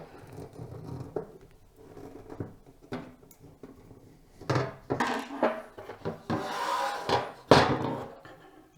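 Metal front panel and screws being removed from a Fractal Meshify 2 PC case: scattered clicks, taps and rattles of metal parts handled up close, in irregular bursts with quiet gaps between.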